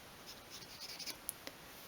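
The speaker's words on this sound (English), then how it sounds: "I'm going to make pencil marks along each of them" Pencil marking measured points along miniature 1/12 scale single bed legs: faint, light scratchy strokes with a few short taps, close and quiet with no talk.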